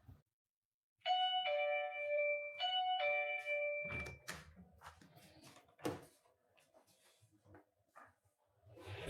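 An electronic two-tone doorbell chime rings twice in quick succession, clear and close, before door noises, footsteps and voices follow.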